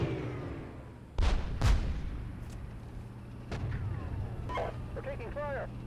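Gunfire and artillery fire in a war simulation game depicting a battle for Narva, Estonia, with tanks engaged: two loud close booms early, a sharper crack mid-clip, then further scattered shots over a steady rumble.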